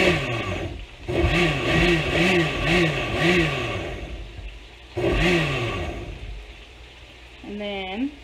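A blender pulses salsa verde with added water, roaring loudly in two close bursts of a few seconds each separated by a brief pause, with a short voice near the end.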